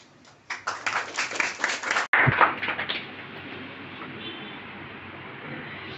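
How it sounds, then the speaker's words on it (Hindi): Audience clapping at a general knowledge competition prize distribution ceremony, a burst of applause lasting about two seconds, then a sharp crack and fading claps into quiet room noise. "जोरदार तालियां अनुज कुमार"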